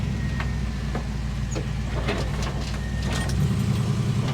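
A resurrected old cab-over-engine truck being driven gives a loud, steady low engine drone with a thrumming rumble and some rattles on top, rising slightly near the end.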